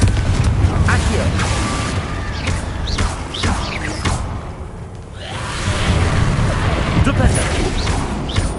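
Booming fiery blast of the Confringo explosion spell in the video game Hogwarts Legacy, rumbling with crashes and whooshes in dense battle noise, loud and continuous throughout.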